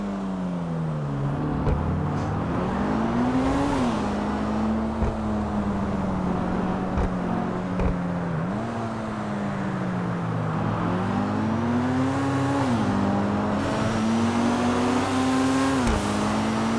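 Cars race along a highway in a video game with a sustained engine drone that climbs in pitch and drops at each gear shift, loud and continuous, with no voices.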